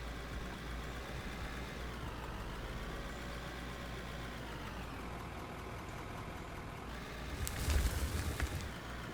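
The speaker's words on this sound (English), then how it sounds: "Next, let's see if I can actually drive a tractor today" A tractor engine in a video game runs with a steady, low, continuous drone, swelling briefly louder near the end.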